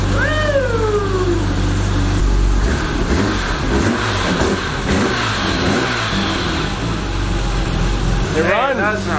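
A BMW E34 M5 engine fires up and revs in a garage, loud and close with rising and falling pitch sweeps, while people talk and cheer over it.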